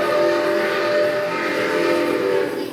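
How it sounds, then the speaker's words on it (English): A Grand Trunk Western six-chime steam whistle sounds from locomotive 6988 in the Trainz railway game as a single loud, steady, rich chord held for almost three seconds. "and a Grand Trunk Western 6-chime"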